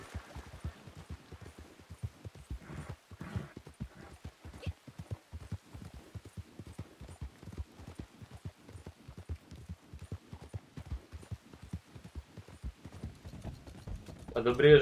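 Horse hooves clip-clopping in the video game Red Dead Online while riding with a legendary bear loaded on the horse, a steady rhythmic string of hollow thuds, moderately close, with faint speech in places.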